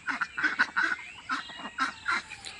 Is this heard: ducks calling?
yes